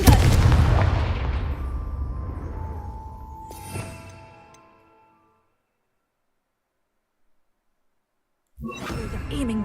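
A fiery Confringo explosive spell from Hogwarts Legacy bursts with a loud, close booming blast that rumbles and fades over several seconds, with a sharper crack midway, then silence before noise returns.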